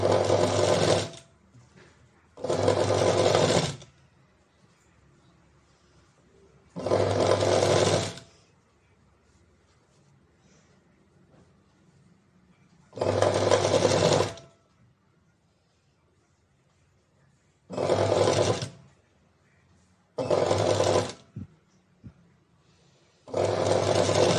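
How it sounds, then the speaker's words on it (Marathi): Sewing machine stitching a blouse, seven separate bursts of fast whirring stitching, each a second or two long, split by quiet pauses. "आता आपण याच्यावरती डबल शिलाई करतील"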